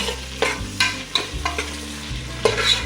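Fresh mint is stirred in an oily pan for white pulao: quick scraping strokes every half second or so over a light sizzle, with a low steady hum underneath.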